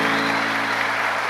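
A church congregation applauds at a Catholic Mass, a steady wash of clapping over a low sustained organ-like tone, loud and continuous.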